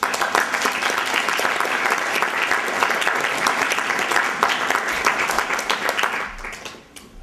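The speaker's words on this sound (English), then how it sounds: "right now just join me in giving them a round of applause" An audience applauds the panelists of a talk on the internet and democracy, a dense, steady wash of many hands clapping close by that fades out toward the end.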